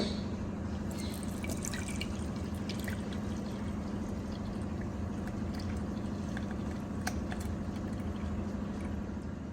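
Blended juice trickles and drips steadily through a strainer, a continuous wet dribble with no voices.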